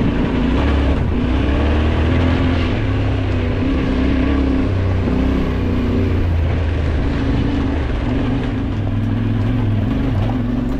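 Yamaha Ténéré and Triumph Tiger motorcycles climb a rough, stony former military track toward Mont Jafferau in the Alps, engines droning loud and steady throughout with a continuous rumble and no voices.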